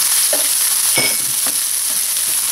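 Onion and garlic sauté in a hot pan for Filipino chicken tinola, giving a steady, close sizzle with a few sharp clinks and scrapes of a utensil stirring through it.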